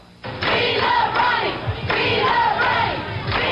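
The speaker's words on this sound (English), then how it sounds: "those who came from all over the country to provide the hoopla, to cheer their man, were still shouting and smiling tonight" Supporters of Ronald Reagan at a political convention shout and cheer in a loud surging crowd roar that rises abruptly after a quiet moment, with chanting swells and thumps, continuous and close, dense voices blending together.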